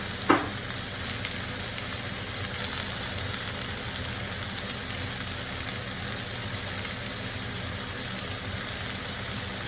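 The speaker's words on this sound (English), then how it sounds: "I can hear the sizzle." Spiced barramundi fillet sizzles steadily in a hot pan with tomatoes, lemon and scallions, a constant crackling fry with one brief clatter near the start and no talk.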